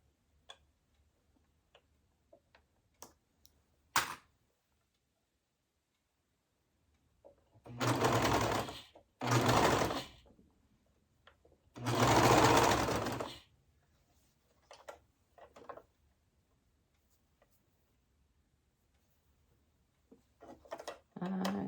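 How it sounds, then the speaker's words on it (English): A serger sewing machine trims about a quarter inch off a fabric edge while sewing a skirt, heard in three short loud bursts of rapid stitching separated by pauses, with scattered light clicks and handling sounds around them. "I'm just following the edge of the serger so that it takes off probably close to 1/4 of an inch"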